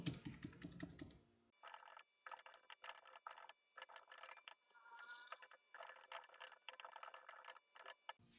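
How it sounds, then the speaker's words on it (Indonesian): Keys clack in fast, uneven bursts on a computer keyboard while entering text in Microsoft Word, close and fairly quiet, with short pauses between runs of keystrokes. "kita ketik 2 paragraf dulu"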